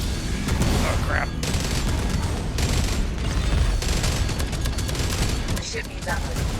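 Spaceship cannon fire in the game Jump Ship, a dense, steady barrage of booming shots running throughout with brief bursts, under a busy layer of game noise and some talk.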